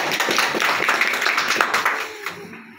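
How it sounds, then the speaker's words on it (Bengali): An audience gives a round of applause for an uncle at a gathering, with steady, close clapping from a small crowd that fades out near the end. "আমাদের আঙ্কেলের জন্য একটা করতালি হয়ে যাক"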